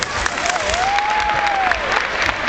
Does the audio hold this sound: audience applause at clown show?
yes